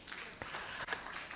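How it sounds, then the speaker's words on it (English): Faint, distant applause from a media-week audience as a speaker comes on stage, soft scattered clapping with a few sharper claps standing out. "Please give him a big hand clap as he comes"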